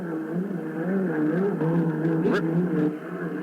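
A 1972 unlimited hydroplane, the U-71, runs at full throttle on the final lap of a Seafair regatta heat, giving a steady, wavering engine roar heard from a distance beneath a broadcast announcer's voice.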